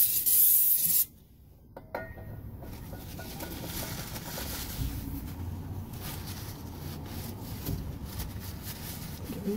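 Cleaner sprayed onto a Nissan Terrano engine area after an oil and filter change: a short loud burst at the start, then a long, soft, steady hiss of spray and dripping close by.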